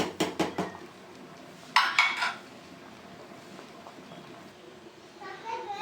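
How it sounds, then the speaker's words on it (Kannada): Several sharp metallic clanks and clinks of a pressure cooker lid being fitted and closed, a quick burst at the start and another a second or so later, with quieter kitchen sounds between. "ಸೊ ನಾನೀಗ ಕುಕ್ಕರ್ ಲಿಡ್ನ ಕ್ಲೋಸ್ ಮಾಡ್ಕೊಂಡಿದ್ದೀನಿ"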